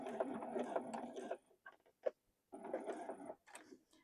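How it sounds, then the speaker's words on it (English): A home sewing machine stitches a regular seam across the top of a small toy gift, with two bursts of rapid, close mechanical whirring separated by a short pause with faint clicks. "I'm going to stitch right across the top here, just a regular stitch"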